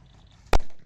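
A Diwali firecracker bursts once with a sharp, loud bang close by, set off outdoors during a street cricket game, its boom decaying quickly after the blast.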